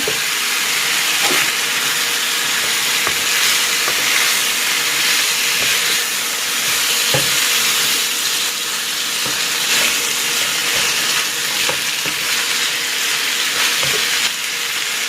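Marinated chicken for garlic chicken with mushroom sizzles steadily in a frying pan, a continuous loud hiss broken by small pops and crackles, with no talking.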